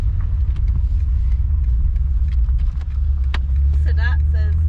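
A 2021 BMW M5 Competition engine runs at a steady, loud low idle close by after starting, with a deep continuous rumble and faint clicks and chirps above it.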